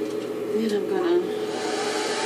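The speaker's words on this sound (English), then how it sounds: "blow dry it a little bit" A hair dryer blows steadily and close while a quick weave of cheap yaki hair is blow dried, a constant airy whoosh with faint brushing and a brief voice mixed in.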